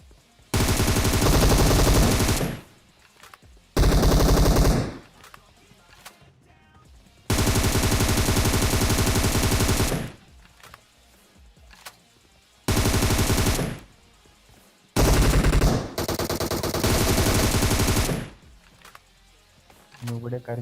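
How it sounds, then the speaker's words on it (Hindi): Automatic weapon fire in the battle royale game PUBG Mobile, loud sustained bursts of shots repeating in several long volleys separated by brief pauses. "मैं एकदम एक जगह पे खड़े होके जमीन पे गोली चलाने लगता हूं"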